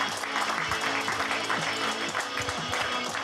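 Applause from a festival crowd at a pétanque tournament in Saint-Juéry, a short burst of steady clapping filling the space.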